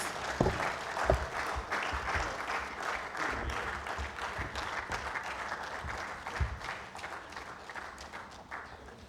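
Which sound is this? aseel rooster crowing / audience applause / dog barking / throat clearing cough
audience applause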